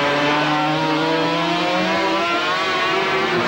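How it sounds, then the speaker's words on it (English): A 500cc Grand Prix racing motorcycle at the 1992 Malaysian Grand Prix holds a loud, sustained, buzzing engine note with the pitch shifting slightly as the rear wheel spins, steady and prominent throughout. "You can just hear the note, you hear the engine note, and that little rrr at the end of it is the wheel starting to spin"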